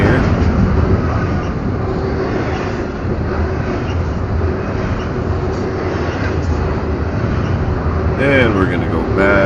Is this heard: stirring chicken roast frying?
no